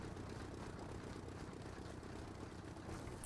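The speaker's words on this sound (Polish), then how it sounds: "Odpalam silnik." An engine idles in the video game Rust, a low, rough, continuous rumble held at a steady level throughout, fairly quiet and without speech.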